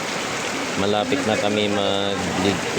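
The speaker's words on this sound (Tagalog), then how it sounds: "saka bumusong malakas na ulan" Heavy rain pours on a vegetable garden as a steady broadband hiss while someone talks over it.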